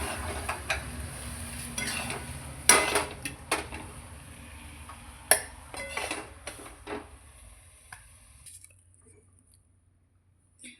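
Mango jaggery jam (raw-mango gulamba) is scooped from the pan onto a plate, making quiet, scattered spoon scrapes and sharp metallic clinks that thin out and fade toward the end.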